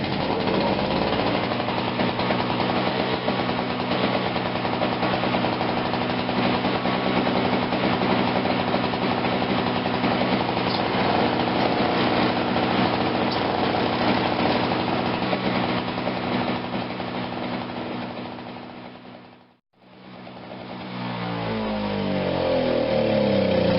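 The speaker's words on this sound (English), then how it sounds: "Runs good. You know, two-stroke. They run like that." A Craftsman 21-inch 5 hp two-stroke snowblower engine runs loud and close with a dense, raspy buzz, briefly cutting out near the end before picking back up.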